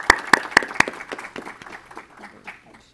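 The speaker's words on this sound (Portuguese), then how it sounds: "Vamos dar uma salva de palmas para o Padre Chico" Applause at a formal ceremony honouring a parish, beginning with four sharp, loud, evenly spaced claps from a close source, then a softer scattering of clapping from the room that thins out and fades.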